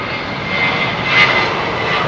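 Jet airliner engine spooling up at start in wet weather at London Heathrow, a loud, steady broadband roar with a high tonal whine that swells slightly partway through.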